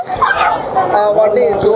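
A dog at a pet carnival in Hyderabad gives short, close yips and whimpering barks, mixed with other nearby noise.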